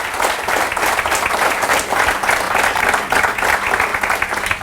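Loud, sustained applause from a large audience at a motivational training event in Mumbai, dense clapping that fills the room steadily from start to finish with no talk over it.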